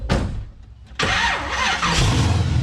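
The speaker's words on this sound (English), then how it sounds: "starts up the engine of his 1972 Pontiac LeMans" A 1972 Pontiac LeMans engine starts close by: a short crank, a brief pause, then the engine catches with a loud burst and settles into a strong, rough idle.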